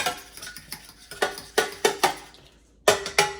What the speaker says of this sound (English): Scramble that egg a little bit.